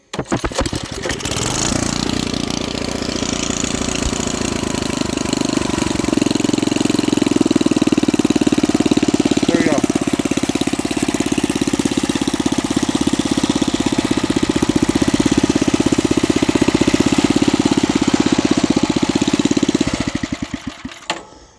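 A rototiller engine pulls over, catches and settles into a steady, loud, close idle that runs for about twenty seconds before cutting off, with no talking.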